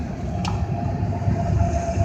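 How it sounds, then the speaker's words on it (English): A CSX freight train led by three engines rolls past in Erie, Pennsylvania, a steady, loud rumble of wheels and cars that continues throughout, with a brief higher squeal near the start. "Oh, there's another train."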